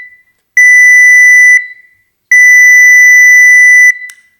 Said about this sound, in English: I have a series of tone bursts here, and they start really short, and they progressively get longer and longer